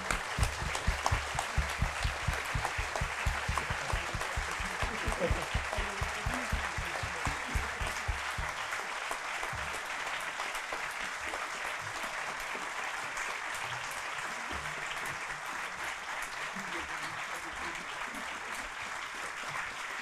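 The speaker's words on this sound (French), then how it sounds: "je vous demande à tous maintenant de vous lever pour applaudir Francis Allais." A seated audience applauds the botanist Francis Hallé at a forest-themed talk event, with loud, sustained clapping from many hands. It is dense and rhythmic at first, then loosens into a continuous roar for the full stretch.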